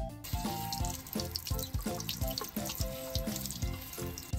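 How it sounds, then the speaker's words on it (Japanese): A JBL Go3 Eco Bluetooth speaker is rinsed under a running tap, with steady splashing water heard close up while the speaker keeps playing rhythmic music. "ちょっとね水洗いしていきましょう。"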